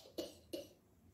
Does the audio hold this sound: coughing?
yes